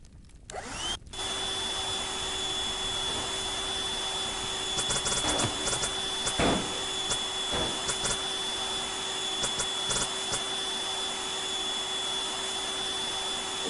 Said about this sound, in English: The old vacuum out here.